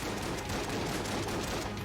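A steady, dense barrage of gunfire-like shots fills the air as a boss summons bullets in Enter the Gungeon, loud and unbroken throughout the short burst.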